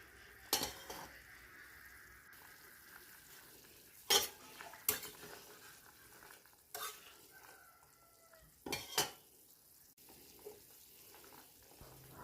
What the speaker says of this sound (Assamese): অলপ লৰাই দিছোঁ।